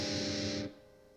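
Electric guitar played through a Metal Zone distortion pedal turned all the way up gives one heavily distorted sustained chord that rings loud and buzzy, then cuts off abruptly, leaving faint hum.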